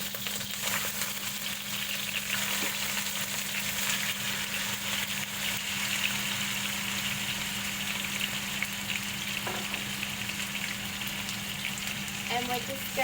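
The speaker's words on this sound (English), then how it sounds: "we're just going to cook those until they have a nice golden brown colour on them" Chicken drumsticks fry in a pan of oil for a chicken biryani, giving a continuous, even sizzle with a low steady hum beneath it and light clatter near the end.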